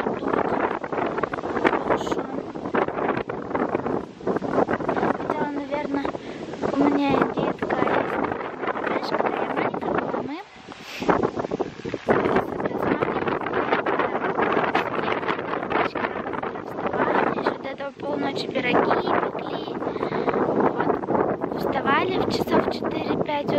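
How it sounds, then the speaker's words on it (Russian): Strong wind blows outdoors under overcast skies, roaring steadily against the microphone with constant buffeting gusts while a person talks throughout. "Так-то ветер приличный."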